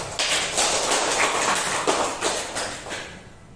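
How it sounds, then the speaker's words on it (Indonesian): Applause from the audience at a school positive-culture dissemination event: a dense, lively burst of clapping that carries on for several seconds and thins out toward the end. "Kita berikan aplaus yang meriah"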